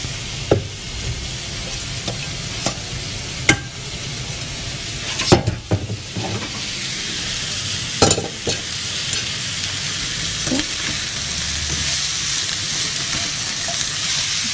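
Strained noodles being stirred and tossed with vegetables and chicken in a frying pan, with a steady sizzle and irregular scraping clinks of utensil against pan throughout, close and fairly loud.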